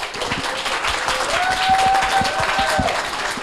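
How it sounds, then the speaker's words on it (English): Applause from an audience at a data science and web development demo day in Tokyo, moderately loud with scattered distinct claps, mixed with a faint tonal hum and a sustained pitch in the background. "You all deserve a round of applause too."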